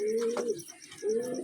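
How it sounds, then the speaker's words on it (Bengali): Rampuri pigeon chicks coo in two close, drawn-out calls with a short pause between them, fairly soft against a quiet background. "একদম আলাদা লাইনের পায়রা আছে দুটো।"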